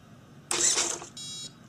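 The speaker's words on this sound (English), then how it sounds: "this is how to start a fifth scale gas using Killer RC's power starter" A fifth-scale Redcat XB gas RC car cranked with a Killer RC power starter in a hot garage: a short burst of whirring cranking rises abruptly, followed by a brief high electronic beep.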